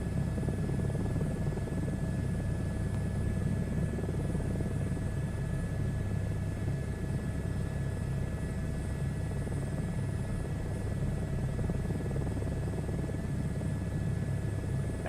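Helicopter rotor and engine in a VR flight game, a steady low rumbling drone with faint whine that runs unbroken throughout at moderate level, with no talk.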